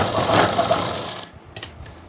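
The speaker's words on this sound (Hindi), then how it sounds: "हम तो यह सीधी सिलाई लगाते हैं" A sewing machine runs a straight stitch on salwar fabric, a steady close whir for just over a second before stopping, then a few faint clicks and handling sounds.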